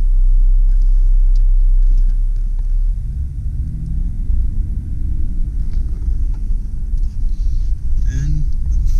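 A 2001 Jeep Grand Cherokee with the 4.0L inline-six, driving in full-time four-wheel drive, gives a steady low rumble heard from inside the cabin, engine drone continuous and close, with faint road and cabin noises.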